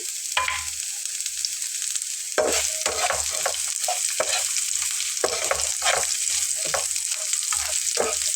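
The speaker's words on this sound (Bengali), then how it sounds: "পেঁয়াজটাকে মশলাটার সঙ্গে 5 মিনিটের মতো করে একটু ভেজে নেব" Chopped onions frying with spices in a pan over a low flame, a constant bright sizzle with repeated scraping stir strokes that clatter against the pan, close and fairly loud.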